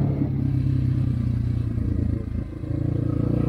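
A Kovi Max 300 enduro motorcycle rides past nearby with a loud, steady engine drone and some rattling clatter, dipping briefly before it picks up again, with no voices.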